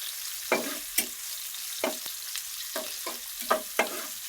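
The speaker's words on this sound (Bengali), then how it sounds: "এখানে মাছ ভাজি করতেছি" Tilapia fries in a pan on a stove, giving a series of sharp, spaced pops and spatters, roughly eight bursts over a quiet, low background.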